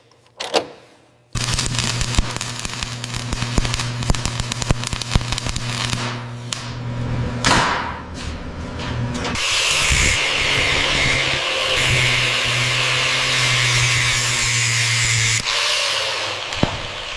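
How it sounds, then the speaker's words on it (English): A power tool drives bolts down on the reinforcement strip of a 1990s deep-tube metro train, a loud continuous buzzing with rapid rattling impacts and sharp bursts, shifting partway into a harsher, steadier whine. "making sure each one of these bolts is properly torqued down on the reinforcement strip."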